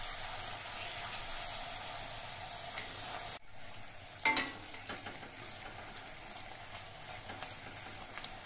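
Luchi, puffed flatbreads, deep-frying one at a time in hot oil, a steady soft sizzle throughout with a brief louder crackle partway through, no voices.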